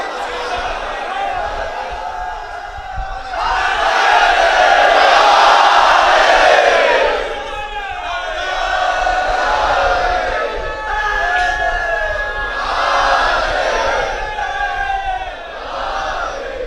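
A majlis gathering of mourners chanting slogans in unison, loud rising waves of many voices swelling and fading in repeated bursts with brief lulls between them.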